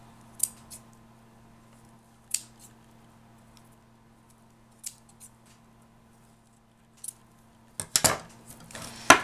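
Scissors snip excess ribbon off craft bows for a mini paper album, a few isolated sharp snips spaced apart over a quiet hum, followed by a quick cluster of closer cutting and rustling at the end.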